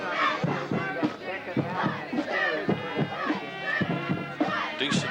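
Crowd noise from spectators in the bleachers at a 1997 high school football game between Valley and North Catholic, a steady mix of voices and shouts filling the stands throughout, with individual yells standing out now and then.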